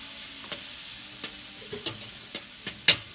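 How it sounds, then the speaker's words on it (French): Vegetables frying in a paella pan, a constant soft sizzle broken by several sharp spatula scrapes and taps, close and clear. "Fait qu'on fait revenir les légumes."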